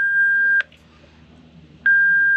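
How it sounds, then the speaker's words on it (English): Two long steady electronic beep tones from a sailboat's AIS collision alarm, one at the start and one at the end, with a quiet gap between them over a low engine hum. "it's like basically the collision alarm"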